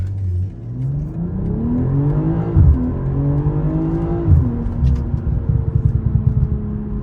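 BMW M340i with the B58 six-cylinder engine revs hard in repeated rising and falling sweeps, loud and close, with sharp blips near the end.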